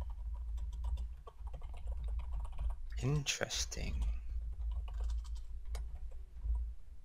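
Keyboard typing ticks along continuously during a Town of Salem game session, with a short spoken word cutting in midway over the clicking.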